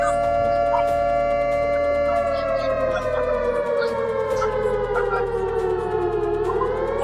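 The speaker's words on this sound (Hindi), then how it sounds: "सायरन की आवाज जो है वो शुरू हो गई है।" A civil defense siren during a nationwide mock emergency drill holds a long steady wailing tone, then slowly falls in pitch before rising again, loud and continuous with faint background noise.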